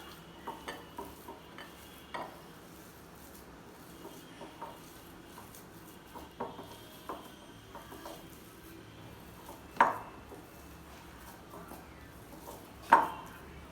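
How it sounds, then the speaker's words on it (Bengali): Scattered stirring and clinks of a spoon in a bowl as potato, coriander and other snack ingredients are mixed, with faint scraping between a few sharper knocks. "সব কয়টা উপকরণ ভালোভাবে মিক্স করে নেব।"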